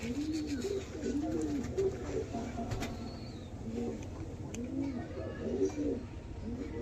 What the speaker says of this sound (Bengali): দেখে নিন দেশি পশ্চিমে পায়রা,